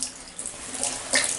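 Bathtub tap in a hotel bathroom turned on, releasing a steady hiss of running water that swells louder toward the end, close by and with no talk over it.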